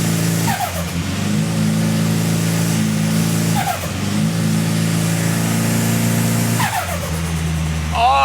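Boosted car running at 18 pounds on a dyno: the engine howls up through repeated loud climbs about every three seconds, each briefly dropping at a shift before winding up again, close and without any talk.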